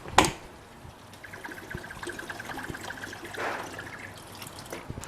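Water pours into a pot of eggplant for sambar in a steady trickle, starting with a sharp clatter and continuing as a thin splashing stream.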